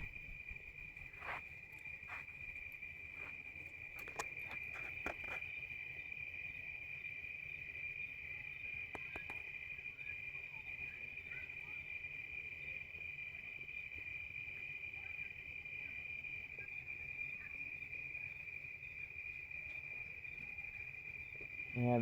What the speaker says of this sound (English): that's nighttime crickets that we're hearing.